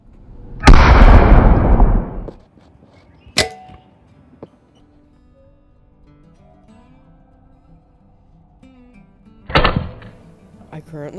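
A homemade airsoft sniper rifle fires at a tree about 50 yards away, giving a sharp loud burst of air with a hissing tail, then a faint tap, and later a second shot.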